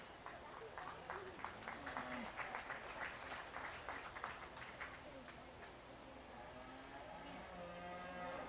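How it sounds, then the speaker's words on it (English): Cattle moo at a county fair beef show, low drawn-out calls rising above a crowd that claps steadily, with an announcer's voice and a busy arena echoing behind them. "On reserve for the cow-calf pair, shown by Cameron Nelson."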